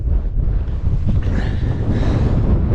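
Strong wind roars and buffets across open Peak District moorland at dusk, a loud continuous rush with gusty surges and rumbling microphone buffeting throughout, no voices.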